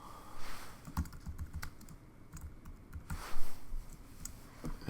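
Steady typing on a computer keyboard while entering text in Photoshop, rapid close key clicks in uneven bursts with brief pauses, fairly quiet, with no voice.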